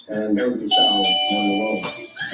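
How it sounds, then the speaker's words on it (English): Doorbell chime ringing inside a home, a clear two-tone electronic ding-dong with sustained ringing notes, heard under someone talking over it. "That's the doorbell."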